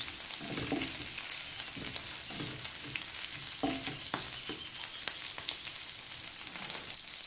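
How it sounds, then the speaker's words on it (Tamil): Cumin seeds fry in hot oil with a steady broadband sizzle, broken by occasional scraping stirs and soft clinks of a spoon against the pan, close and continuous throughout. "அதில் கொஞ்சமாக சீரகம் சேர்த்து அதையுமே நல்லா ஃப்ரை பண்ணி எடுத்துக்கொள்ளலாம்."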